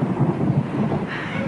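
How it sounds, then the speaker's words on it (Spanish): A thunderstorm rumbles with deep, continuous thunder and a wash of rain, loud and steady throughout with a brighter hiss swelling near the end. "¡Maldita tormenta!"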